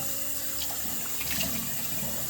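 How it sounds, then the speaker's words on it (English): Tap water runs steadily into a sink while someone washes their face, a continuous close splashing stream with no talking. "I use lukewarm water to wash my face, and then I use just pure cold water."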